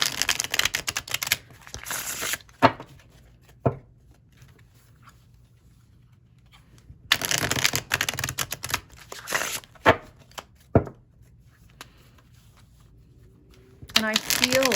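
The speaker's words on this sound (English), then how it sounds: "I'm gonna go ahead and shuffle my deck" Several bursts of a card deck being riffle-shuffled nearby, fluttering rapid clicks separated by quiet gaps and a few single taps.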